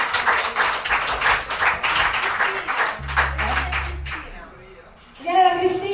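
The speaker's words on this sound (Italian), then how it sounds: "Un applauso a Luana con la febbre." Applause from a small audience at a live music evening in a little venue, lively clapping for about four seconds that dies away, followed by a voice speaking close by.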